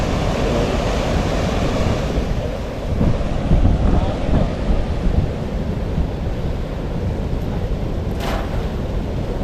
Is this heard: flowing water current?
yes